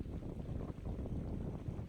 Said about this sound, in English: There you can hear a little bit of wind.